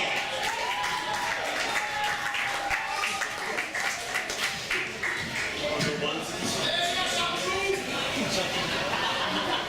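Audience applause with chuckles and scattered laughter welcoming comedian Kelvin Yeo at a stand-up comedy show, a steady wash of clapping that runs throughout under crowd murmur.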